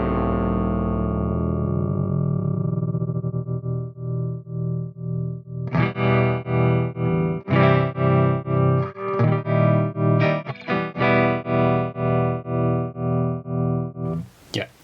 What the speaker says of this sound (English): now I'm going to turn this down and then you'll hear really what is an actual ring mod.